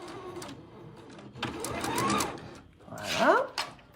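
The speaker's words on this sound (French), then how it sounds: "Donc là, on vient de coudre la fourche, c'est ça?" A sewing machine stitches the fork piece of a sewn project at a maker fair, running in short whirring bursts with pauses, while people talk nearby.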